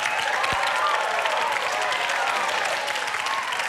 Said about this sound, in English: Please give a round of applause to our exceptional panellists